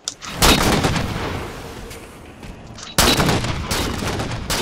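Sniper rifle shots in Halo 4, heard as two loud, booming blasts a few seconds apart, each followed by a long rumbling decay, close and without talk.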